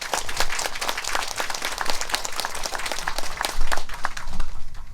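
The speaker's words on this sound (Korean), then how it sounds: "주교님께 감사의 박수 부탁드립니다" A congregation at a Catholic Mass claps in thanks for the bishop, close and lively applause with distinct individual claps in an uneven rhythm, swelling slightly toward the end with no voices over it.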